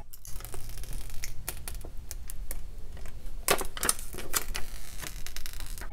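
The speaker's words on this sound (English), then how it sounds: "let me go ahead and peel these stickers off" Protective stickers peeled off a new iPhone XS Max, close crinkling and crackling plastic with a few sharp snapping bursts near the middle, continuous and unaccompanied by talk.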